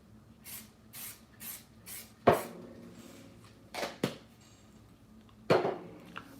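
An aerosol can of fixative sprays over a chalk car sketch in several short hissing bursts, a quiet rhythmic series followed by a few louder clunks and handling sounds, no talking.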